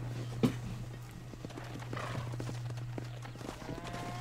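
Horse hooves clip-clop in the Red Dead Redemption video game, a steady run of close hoof thuds over a low constant hum, with a brief whinny-like sound near the end.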